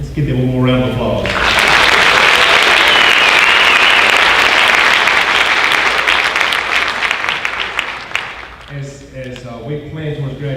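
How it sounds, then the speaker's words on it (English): An audience at a 2019 high school honors night bursts into sustained applause, a loud, dense clapping wash lasting several seconds, framed by someone speaking into a microphone before and after. "Let's give them one more round of applause."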